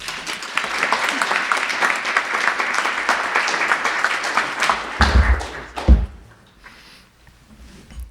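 Wedding guests applaud at a ceremony reception at the Fairmont Chateau Laurier in Ottawa, a loud, sustained round of clapping that tapers off near the end, followed by a couple of thumps and a brief murmur of voices.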